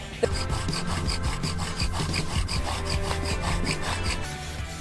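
A wooden bow drill spindle rubbed back and forth on a wooden fire board, a loud, close, continuous rhythmic scraping with regular strokes throughout.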